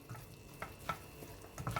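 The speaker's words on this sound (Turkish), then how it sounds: "Şöyle güzelce karıştıralım." A spoon stirs rice and meat stuffing for mixed dolma in a pot, soft scraping and light clinks at uneven intervals, quiet and close.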